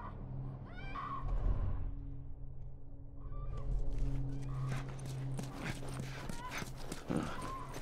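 Horse in The Last of Us Remastered, with clip-clop hooves and neighing cries set against a low sustained game-score drone and ambience, with people talking.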